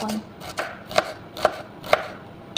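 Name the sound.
cutting bitter gourd with a knife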